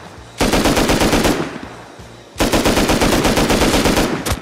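Video game automatic gunfire rattles in two long, rapid bursts, loud and close, separated by a brief pause, with almost no talk over it.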